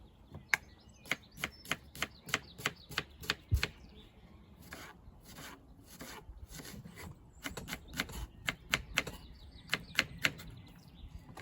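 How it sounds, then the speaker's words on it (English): A knife dicing an onion on a chopping board during outdoor caravan cooking: fast, sharp taps in rapid runs with brief pauses, close and fairly quiet, without any speech. "So I'm just going to dice all of this."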